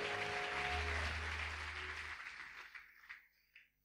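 A church congregation applauds loudly, a dense wash of clapping that fades over a few seconds into scattered claps, indoors and fairly close, with a low hum beneath.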